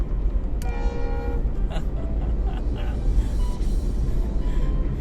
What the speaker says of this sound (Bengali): একটা বগি নিয়ে যাচ্ছে মাত্র, ট্রেনও যাচ্ছে আমিও যাচ্ছি